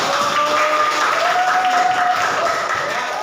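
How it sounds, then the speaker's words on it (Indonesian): A classroom audience gives steady applause during an Islamic cultural history lesson, a dense, even wash of clapping holding for a few seconds, with a faint tonal hum running underneath. "Oke, kasih tepuk tangan."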